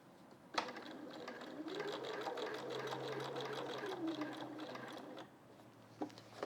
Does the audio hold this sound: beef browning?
no